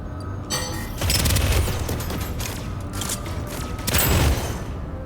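A weapon firing in Deadzone Rogue: loud bursts of mechanical gunfire with rattling, booming shots, two heavier volleys standing out over continuous clatter.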